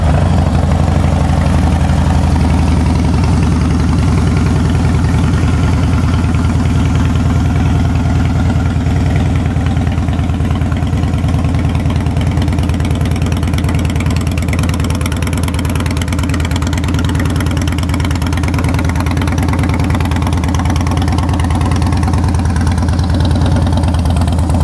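A Harley-Davidson Fat Boy Lo motorcycle engine idles loud and close, a deep, steady, lumpy rumble that holds unchanged throughout.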